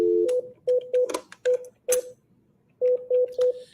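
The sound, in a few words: telephone dialing tones, calling the White House comment line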